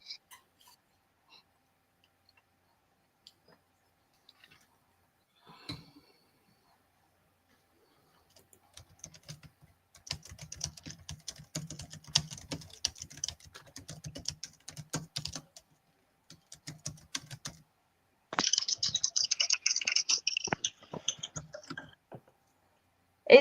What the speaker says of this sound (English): Is your microphone really close to your keyboard, John?